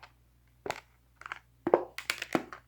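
Soft muffled pops and squishes come from pressing the soft side of an Among Us dimple fidget toy, a silicone popper. The presses arrive in scattered quiet clusters over a faint hum.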